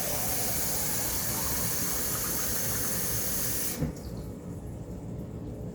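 Tap water runs steadily into an empty chicken broth can with a broad, hissing rush, then cuts off sharply near the end, leaving a quieter room.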